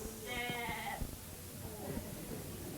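Sheep bleat in a crowded yard, one loud nearby bleat standing out clearly before fainter, scattered bleats and shuffling from the flock follow.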